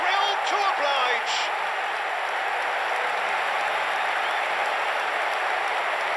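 A stadium crowd in an eFootball video game applauds and cheers steadily after a goal, a dense, continuous roar of clapping that holds at an even level throughout, with a few brief whistles near the start.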